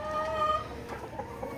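Tiger breed chickens, fourteen-month-old parent birds, give soft clucks and short calls nearby at moderate level against a faint farmyard background.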